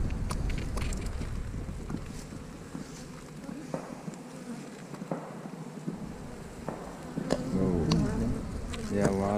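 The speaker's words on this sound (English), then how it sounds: "Whoa. Yeah, a lot of bees." A large mass of honeybees drones steadily inside an opened farm hive, the broad buzz running throughout beneath wind noise and a few quiet voices.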